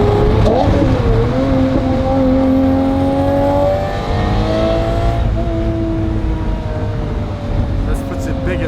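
An Audi R8 engine revs hard and climbs in pitch, the tone rising and falling through several sharp sweeps, loud and close, with a roaring exhaust note holding steady between pulls.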